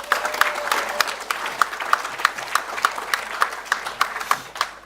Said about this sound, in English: So huge round of applause, please, for our sponsors